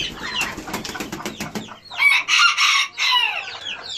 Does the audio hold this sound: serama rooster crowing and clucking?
yes